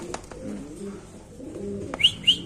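Soft low cooing from a pigeon runs through the clip, with a couple of brief higher chirps near the end; no talking.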